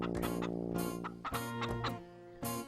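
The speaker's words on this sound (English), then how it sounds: "The chickens in the yard had familiar feathers," Chickens cluck and squawk close by in a busy series of short, throaty calls, one after another with no pauses between.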